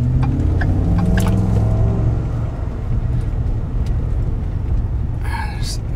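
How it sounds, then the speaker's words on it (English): A car engine warms up with a low, steady rumble, louder at first and then settling, while someone talks over it inside the car. "Just want to get the engine warmed up."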